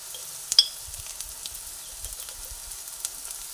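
Ground turmeric and Kashmiri chili powder go into a hot pan of oil for a pointed gourd curry, giving a soft, faint sizzle with a few light stirring clicks near the start.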